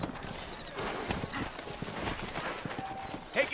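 Horse hooves clip-clop in Red Dead Redemption (2010, PS3), with several sturdy horses moving through a western town, a brief whinny near the end, all under ongoing talk.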